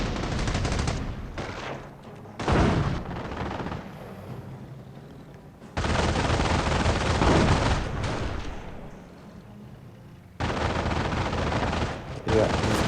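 A bunker fires on enemy infantry in the mobile strategy game Company of Heroes Mobile, with loud bursts of machine-gun and artillery fire in several separate volleys, between quieter stretches of game ambience.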